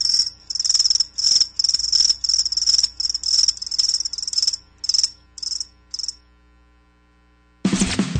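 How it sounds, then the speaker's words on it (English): Cricket chirps used as a sound effect in a radio advert, a loud steady series of rapid pulses that thins out and stops, followed by a short silence and a sudden broadband burst at the end. "That's right, crickets."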